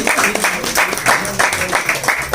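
Audience at a mushaira poetry gathering claps in a lively burst, the individual hand claps audible in rhythmic waves, close and fairly loud.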